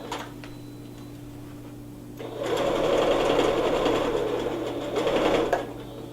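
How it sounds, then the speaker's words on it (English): A sewing machine stitches elastic onto fabric: after two quiet seconds it starts up and runs for about three seconds in a rapid, rattling burst, then stops. "I'll take a couple stitches, and then when you're sewing with elastic, just pull your elastic."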